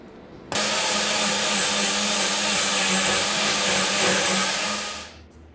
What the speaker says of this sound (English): We'll grind that up and see how it worked